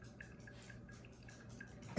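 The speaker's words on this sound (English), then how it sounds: "I'm continuing to pour over" Water drips through coffee grounds in a Hario V60 pour-over brewer during a slow pour, a faint, steady patter of small drops falling at a quick, even rhythm.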